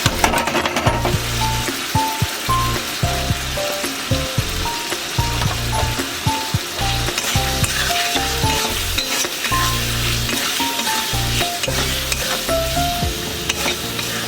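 Turmeric, cumin powder and sugar frying and being stirred in a pan: loud continuous sizzle with clinking spatula scrapes against the pan, while music plays underneath.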